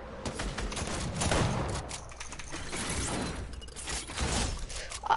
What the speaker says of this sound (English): It's like six shots of an SMG.